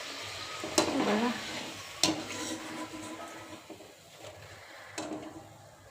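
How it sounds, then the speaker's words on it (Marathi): Green pea puris frying in hot oil give a soft, steady sizzle, broken by a few sharp clinks of a utensil against the pan, moderately close and fairly quiet. "चला दुसऱ्या पण तळून घेऊया लवकर लवकर"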